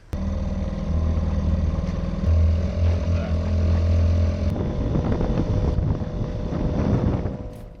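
A small two-stroke boat engine drones steadily up close, buzzing and rattling under gusty wind noise.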